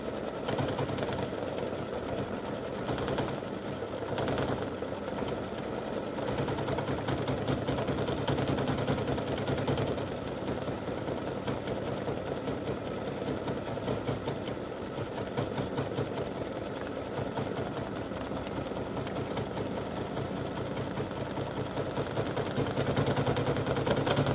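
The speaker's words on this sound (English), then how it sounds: "I'm finishing up on the satin stitch around the edges." An embroidery sewing machine runs a steady, continuous satin stitch around the edges of a ribbon design, a loud mechanical whir with rapid needle rhythm lasting throughout.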